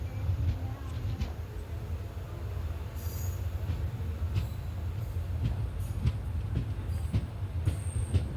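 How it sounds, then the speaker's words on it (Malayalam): A Kollam–Alappuzha passenger train pulls out of a station with a deep continuous rumble of wheels on rail, occasional squeals and clicks over the steady roar, heard from on board. "ആൾക്കാരൊക്കെ കയറി കഴിഞ്ഞു ട്രെയിൻ അങ്ങനെ എടുത്തു"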